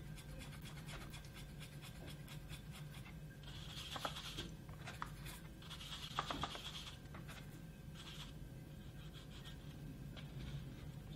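A paintbrush mixes paint colours directly on paper for a teddy bear still life, giving quiet, close scrubbing and rubbing strokes in short bursts over a low steady hum.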